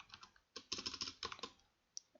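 Typing on a computer keyboard: quiet, close clusters of rapid key clicks in irregular bursts, with a short pause and a final lone keystroke.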